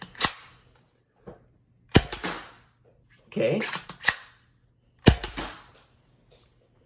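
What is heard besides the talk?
toy dart blaster shooting Dart Zone Pro foam darts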